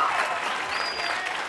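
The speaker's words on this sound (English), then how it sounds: "give a round of applause." Audience applause at a Kevin Hart radio interview, a steady wash of clapping from a crowd with no talk over it, holding even throughout before easing slightly.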